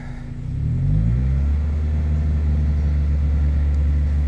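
A 1.8-litre 2ZZ-GE engine in a Toyota Corolla cranks and catches after an oil change, then settles into a steady, close, low idle rumble with no voices.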